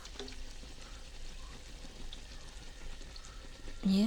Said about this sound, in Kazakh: екінші жағын ауыстырып, ол жағда қызарғанша осылай пісіріп аламыз